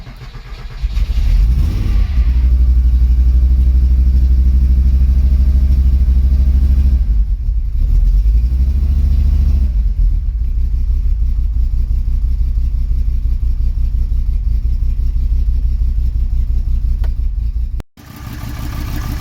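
A VW Passat B3 VR5 engine cranks and starts, then idles loudly and steadily for a long stretch, running rough with slight unevenness and a couple of small revs, before cutting out abruptly.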